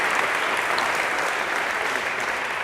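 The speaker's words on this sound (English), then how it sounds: "A big round of applause if we could for Joseph." A lecture hall audience gives a dense, continuous round of applause for a student after a classroom sorting demonstration, many hands clapping at once in an even wash of sound that holds at a steady level throughout.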